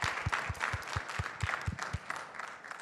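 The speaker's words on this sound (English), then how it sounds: "Big round of applause for Matt." Small audience at a tech training session on large data volume management applauds the presenter, a brief, moderately quiet burst of clapping with a few distinct hand claps near the mic that fades out after two seconds.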